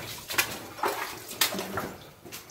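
Water in a flooded mine splashes and sloshes in short, irregular bursts, a few close splashes over about two and a half seconds in an enclosed, echoey space.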